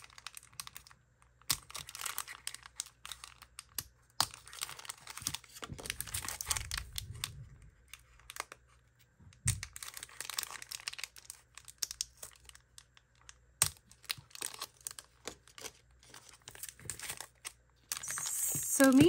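Crinkly plastic packaging for craft supplies rustles and crackles in irregular bursts, close and fairly quiet, with brief pauses between handling sounds.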